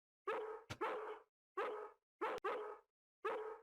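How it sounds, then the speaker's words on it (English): Dog barking in the Harvester video game, five loud close barks in uneven bursts with short gaps, no talking. "Once he gets barking, a good piece of meat is the only way to shut him up."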